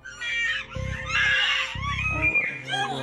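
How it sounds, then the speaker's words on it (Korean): Screams at night caught on CCTV during a violent confrontation between a man and his ex-wife, shrill, piercing bursts separated by agitated voices. "한밤중 갑자기 들리는 비명 소리."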